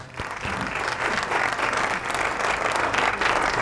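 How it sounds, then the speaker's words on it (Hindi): A studio audience at a Ramzan Islamic quiz show breaks into sustained applause, a loud, full burst of many hands clapping that carries on evenly to the end. "तालियां हो जाए जी।"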